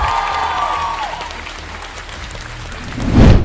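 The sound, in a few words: congregation applauding for Jesus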